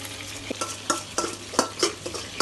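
Butter melts into hot oil in a pan, a light sizzle punctuated by a regular rhythm of stirring scrapes and utensil taps, close by and without voices.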